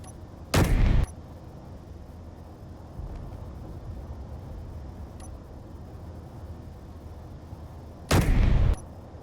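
Weapons fire in the space game Space Engineers as two loud, broad bursts several seconds apart, each about half a second long, over a steady low ambient hum with no talking.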